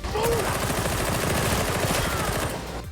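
Rapid automatic gunfire from Warhammer 40K Darktide rattles continuously and densely for the whole stretch, loud and close.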